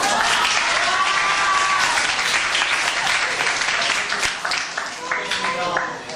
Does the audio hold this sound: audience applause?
yes